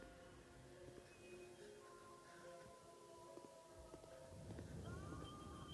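A braying animal call echoes through the haunted hospital of the horror game Paranormal Asylum. Drawn-out tonal cries layer over a dark ambient drone and swell louder near the end, with no talking.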